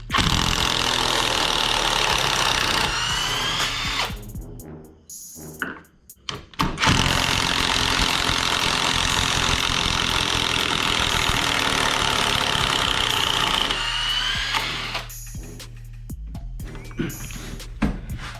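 A loud, harsh whirring TIRLI2002 brushless cordless impact driver, 170 N·m, runs for several seconds, stops briefly, then runs again in a long continuous burst before easing off.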